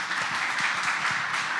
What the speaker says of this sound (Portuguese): Salva de palmas aí pro grupo.